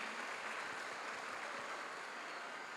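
Faint, steady wash of clapping from a distant crowd at a church anniversary Mass, dense and even throughout without individual claps standing out.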